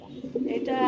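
A female long face pigeon on a farm gives a brief, soft, low coo, close and short.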